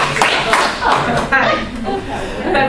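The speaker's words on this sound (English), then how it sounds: "Clap 3 times if you hear me." An audience claps three times on cue, short sharp bursts close together and loud, with light chuckling mixed in.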